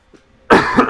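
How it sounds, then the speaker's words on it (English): A single burst of coughing from a person with a cracking voice, loud and close, following a brief quiet moment with faint breathy sounds. "I'm coughing a lot."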